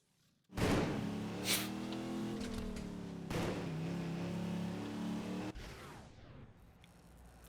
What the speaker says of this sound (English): Lovely engine sounds.